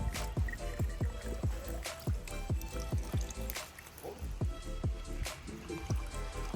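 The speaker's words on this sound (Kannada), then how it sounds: "ಫಿಲ್ ಮಾಡ್ಬೇಕು ನೀರು ಈ ಹೋಲ್ಸಲ್ಲಿ" Fresh water is poured into the filling holes of a new motor on a farm house building site, giving a rhythmic series of deep glugs and drips, close and fairly loud.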